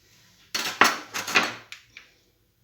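A utensil clinks and scrapes in a bowl as yellow and red tomatoes are mixed, several close, bright strokes in a short burst, then a couple of lighter taps.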